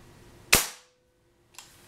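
Benjamin Marauder air rifle fired indoors, a single sharp crack that decays over a quarter second, followed about a second later by the faint ting of the pellet striking the target.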